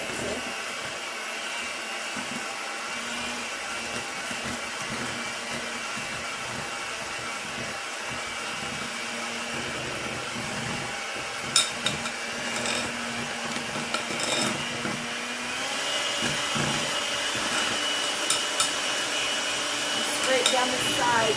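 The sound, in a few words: electric hand mixer mixing blueberry cream bread batter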